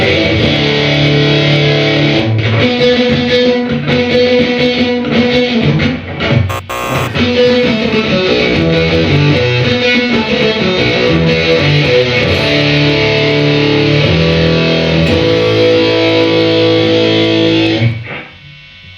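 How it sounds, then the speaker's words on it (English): An electric guitar played through a distortion pedal, using the neck pickup, chugs and sustains in a thick, saturated tone for a long continuous stretch before cutting off abruptly. "It's a distortion pedal."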